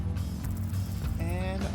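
Bolts come off a mech in Mech Mechanic Simulator with a continuous close ratcheting, mechanical whir, and a voice speaking over it.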